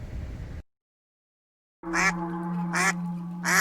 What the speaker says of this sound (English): This duck is out of control.